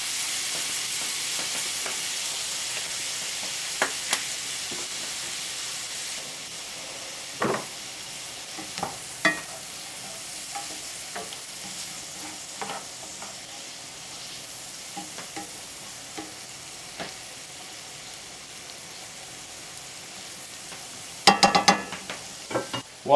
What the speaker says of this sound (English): To the butter, we're going to saute the radish. And add some minced garlic.